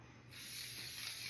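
Spray from a can hisses onto rainbow cotton candy, a close steady hiss that starts abruptly and holds evenly throughout.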